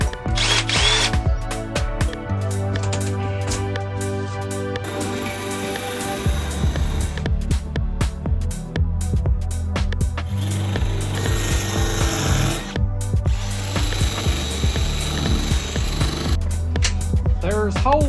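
A power tool grinds rust off the sheet-metal ceiling of a van, buzzing loudly and steadily with shifting pitch and brief pauses. Speech is faint underneath.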